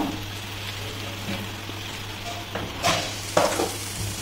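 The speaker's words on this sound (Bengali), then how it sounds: "দিয়ে ভালোভাবে নেড়ে নেব। একটু ভালোভাবে কষিয়ে নেব তেল ছাড়া অবধি।" Spices for chicken tikka (turmeric, Kashmiri chili, coriander and cumin powders) are stirred in oil in a pan, giving a quiet steady sizzle with a few sharper scrapes near the end.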